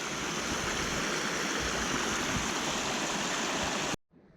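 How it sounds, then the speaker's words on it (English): Steady rushing water of a small, almost waterfall-like stream pouring into the Suwannee River, a constant close splashing flow that cuts off abruptly at the end. "There's a cool little stream flowing into the river."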